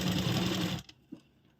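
A sewing machine runs a steady, loud stitching line along the edge of kurti fabric for under a second, then stops abruptly, leaving a faint click and near silence.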